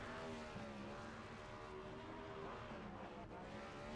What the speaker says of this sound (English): Some guys out there revving the engines.